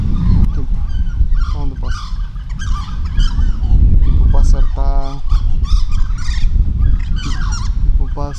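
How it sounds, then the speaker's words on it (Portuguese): Loud, raucous bird calls repeat in harsh bursts, some hooting and chattering in a way that resembles a monkey, over a noisy outdoor background. "Afinal, um pássaro faz este barulho tipo macaco."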